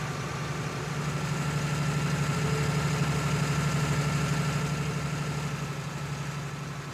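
A tractor engine in Farming Simulator 19 idles at low pitch, a continuous rumbling drone with a faint vibrating hum, holding even throughout with no talking.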